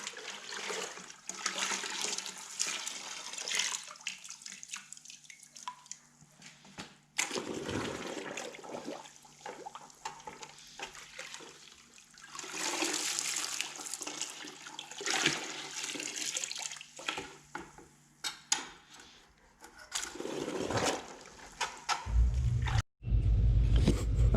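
Clean rinse water poured from a bucket during heater core repairs on a Peterbilt 359, a sustained splashing, gushing rush that comes in surges, pauses briefly and resumes, close by with no talking.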